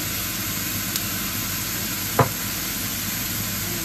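Salmon frying in a pan after a seasoning of salt and pepper, giving a steady, even sizzle with one brief soft clack partway through and no voices.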